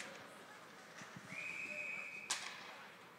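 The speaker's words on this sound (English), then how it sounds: "And we have a whistle." At a college hockey game, a referee blows one sustained whistle blast that rises out of the arena noise, followed by a sharp crack, with faint crowd sound around it.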